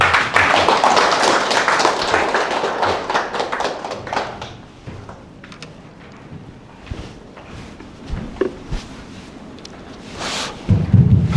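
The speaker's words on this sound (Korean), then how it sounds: "큰 박수로 맞이해주시기 바랍니다" A round of applause from a lecture audience welcoming a professor, loud at first and thinning into scattered claps that fade out, with no talking.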